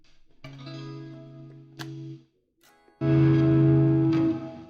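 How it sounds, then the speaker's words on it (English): Electric guitar pushed through heavy distortion rings out in thick, buzzing sustained chords, stopping briefly before a louder, fuller chord crashes in and holds, with no voices. "Too much distortion."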